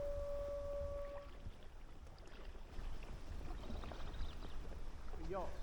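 Paddle strokes and gentle water splashes from an inflatable kayak on a canal, with low wind rumble in the background and a few faint tonal squeaks.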